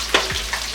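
Chopped onion with curry leaves hits hot oil in a pan for a cabbage palya, giving a brief sizzle and a soft stir, close and moderately loud, with no talking.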